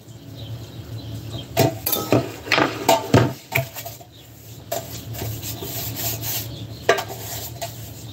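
A paintbrush dabs and brushes butter onto bread at close range, making a series of soft scratchy rubbing strokes in irregular bursts with short pauses between them.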